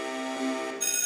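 A school quiz competition buzzer sounds a steady electronic tone with stacked harmonics for about a second, shifting to a brighter tone near the end, loud and alone with no talking.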